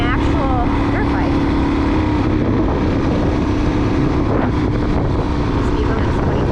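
A Suzuki DRZ motorcycle ridden along a road at about 25 mph, its engine a steady, close drone mixed with constant wind buffeting across the microphone.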